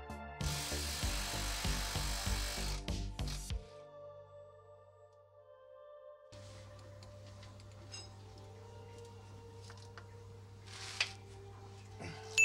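A ratchet wrench clicks rapidly in bursts of cranking while removing engine mount and bell housing nuts on a Subaru twin-turbo engine, then stops; a low hum follows and faint clicks resume near the end.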